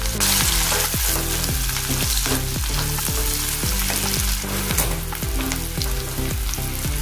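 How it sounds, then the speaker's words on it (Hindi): Ingredients for a poppy seed and lentil curry sizzle loudly in a hot pan while a utensil scrapes and stirs in a steady rhythm, close up, with no talking. "अभी इसको अच्छे से हिलाएंगे और थोड़ा सा नरम होने देंगे।"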